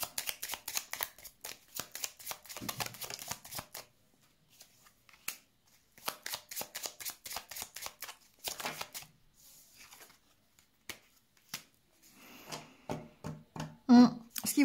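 Lenormand cards are shuffled close by in repeated rapid bursts of riffling and flicking, broken by short pauses, with a voice speaking in between.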